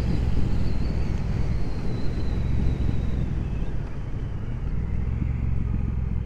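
Triumph Speedmaster 1200 motorcycle out on a ride, a steady low engine drone blended with heavy wind rush across the microphone, continuous and loud with no talking.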